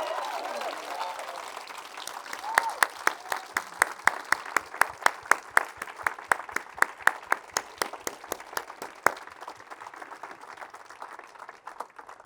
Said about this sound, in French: donner une acclamation, une ovation au Seigneur